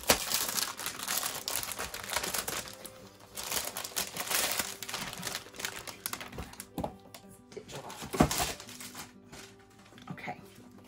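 Plastic packaging of a diamond painting kit crinkles and crackles close up during unboxing, in bursts of rustling with brief pauses and a few louder handling thumps, fairly quiet overall.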